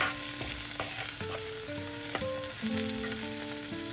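Lentils and curry leaves fry in hot oil for a ridge gourd peel chutney, with a steady close crackling sizzle and occasional stirring clatter, and no voices.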